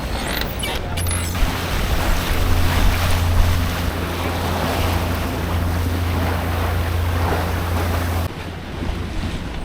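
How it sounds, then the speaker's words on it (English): A boat rolls through rough ocean waves near an isthmus, with constant wind buffeting, rushing water and a low steady engine drone running for nearly ten seconds. "You feel like you're gonna get thrown off with these waves."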